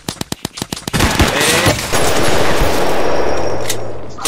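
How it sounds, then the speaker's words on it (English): Gunfire aimed at a house in a Roblox game: a rapid string of sharp separate shots at first, then a loud dense burst of automatic fire that stays close and continuous to the end. "Stop shooting my house, man."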